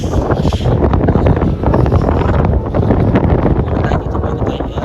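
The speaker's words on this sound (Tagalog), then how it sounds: "Ang lakas ng hangin. Sobra." A loud, continuous wind roar at Smoky Lake, Alberta batters the microphone with deep rumbling buffeting throughout, with a faint voice partly buried beneath it.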